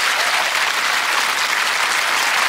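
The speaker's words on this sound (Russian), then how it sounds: "Провожаем аплодисментами." Studio audience of the Russian TV show "Здравствуйте, я ваша пятница" applauding as a guest leaves, a dense, steady wash of clapping filling the whole stretch without pause.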